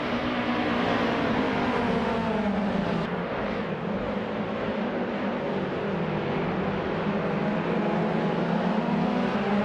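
Engines of race cars in a racing video game at the start of a race, including a vintage Peugeot 407, roaring loudly and steadily as they accelerate together, with no pauses.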